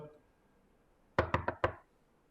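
Knuckles rapping on a locked door, four sharp close knocks in a quick uneven burst after a moment of quiet, with a faint voice just before.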